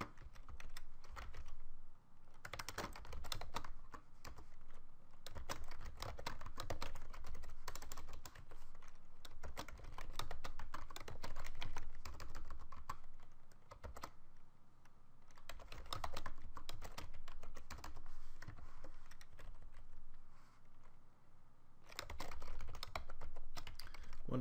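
Steady typing on a computer keyboard while writing PHP and HTML code for a chat box, bursts of rapid close keystrokes with short pauses between runs, no talking.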